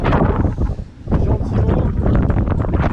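Strong 25 to 30 knot wind at sea buffets the microphone in a loud, continuous roar with gusty surges and one brief lull, close and overwhelming, no voices.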